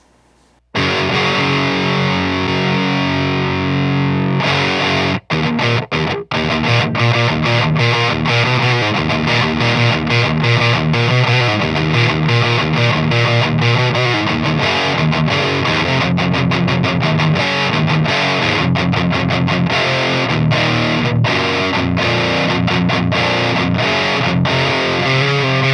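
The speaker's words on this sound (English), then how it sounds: "Let's turn on the boost on the Grandmeister 36." Electric guitar played through a Hughes and Kettner Grandmeister 36 amp with the boost engaged, heavy distorted metal riffing with a brief quiet start, then loud sustained chugging and rapid palm-muted stops throughout, no voices.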